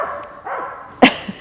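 A dog at a dog-friendly campground gives a couple of close, loud barks with a softer yip or whimper between them, clear against a quiet background.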